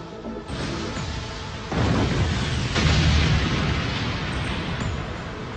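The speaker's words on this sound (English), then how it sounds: "Do those explosions mean that the others succeeded?" Cartoon explosions in a Bakugan anime battle: a loud, continuous rumbling roar of blasts that swells into heavier bursts partway through and keeps booming to the end.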